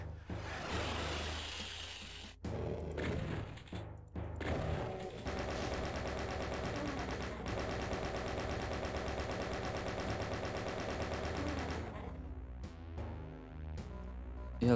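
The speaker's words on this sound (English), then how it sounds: "Chain gun, finally." A chain gun fires in Ultimate Doom, a steady, loud rapid-fire stream that runs for over ten seconds with brief gaps, then gives way to scattered game sounds.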